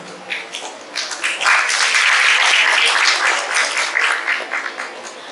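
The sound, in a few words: audience applause for student ambassadors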